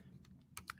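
Quiet computer keyboard typing: a few sharp, separate key clicks, close but faint, with brief pauses between strokes and no voice.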